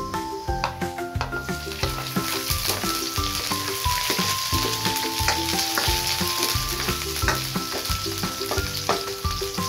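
Onions sizzle and crackle steadily in a hot pan with garlic, an intense close frying hiss with scattered pops and occasional scraping stirs, heard on their own without voices.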